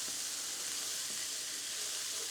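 Onions fry in a pan on the hob with a steady, close, bright sizzle that stays even throughout, with no talking.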